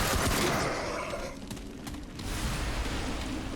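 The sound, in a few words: gunfire from a gun in the video game Remnant from the Ashes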